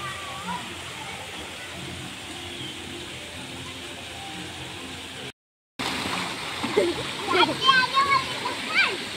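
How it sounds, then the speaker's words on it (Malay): Water splashes steadily as people bathe and swim at a theme park pool, with a brief gap midway, then livelier splashing. Voices, including a child's, talk throughout. "Oh, kat atas tu ada orang mandi."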